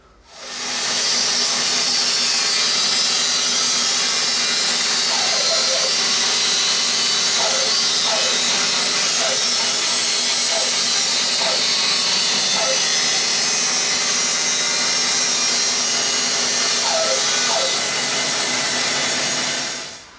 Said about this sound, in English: So I'm going to take these over to the bandsaw and resaw them